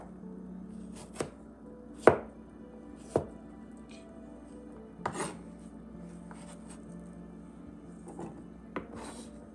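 A knife chopping carrots and cucumber small on a wooden board, several separate sharp close thuds spread out at an unhurried pace, with faint rubbing between the cuts and no speech.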